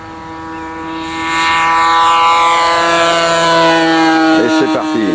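A model aircraft's engine whines on takeoff at an F3Q event near Blois, a rising, sustained high-pitched buzz that swells louder and then shifts as it climbs away, with faint background noise.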